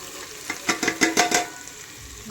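Whole spices frying and sizzling in a pan for a Marathi-style whole masoor lentil pulao cooked in a pressure cooker, with several bursts of crackling and stirring scrapes over about two seconds, close and moderately loud.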